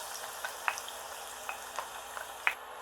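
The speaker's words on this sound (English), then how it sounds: "We'll fry the onions for about 12 minutes until they turn a lovely brown." Chopped onions fry in heated oil and ghee for a masala mutton chop curry, a soft continuous sizzle broken by scattered sharp crackles and pops, heard close with no talking.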